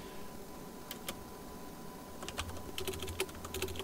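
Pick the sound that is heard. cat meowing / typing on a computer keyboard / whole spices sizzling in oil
typing on a computer keyboard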